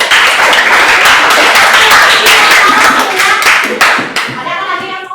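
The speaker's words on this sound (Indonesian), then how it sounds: "Oke, tepuk tangan." A classroom group breaks into dense, lively hand clapping that stays loud and close. The applause thins out and fades over the last second or so.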